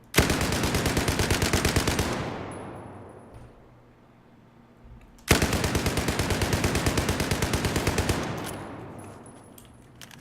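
A U-100 MK5 shotgun fires in the game Battlefield 4, with rapid automatic blasts in two long bursts separated by a short lull and a decaying echo.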